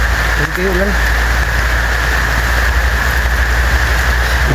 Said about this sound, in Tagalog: Ulan, baik ulan.